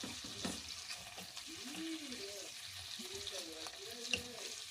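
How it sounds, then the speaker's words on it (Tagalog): Shrimp cooking in butter with garlic in a pan, a steady close sizzle and crackle throughout, with a faint voice talking underneath. "Iluto lang natin sa butter. Tapos lagyan lang natin ng garlic."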